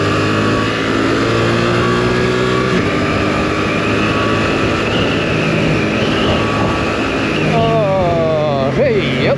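A Suzuki GSX-8R sports motorcycle accelerates on the road with an engine drone whose pitch rises near the end. Heavy wind rush partly masks the engine, and the sound is close and loud.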